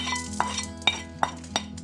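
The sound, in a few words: rice being stirred while roasting in a pan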